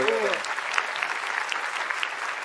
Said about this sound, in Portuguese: Obrigado, aplausos aqui.